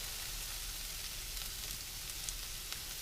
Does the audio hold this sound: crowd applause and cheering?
no